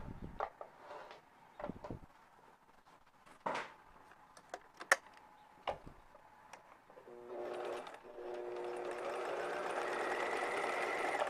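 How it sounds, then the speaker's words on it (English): A sewing machine stitches across the top of a Japanese knot bag, sewing the longer handle through exterior and lining, its quiet steady whir starting after scattered handling taps and running to the end. "we're just going to sew across this top, the longer handle, on both the exterior and the lining."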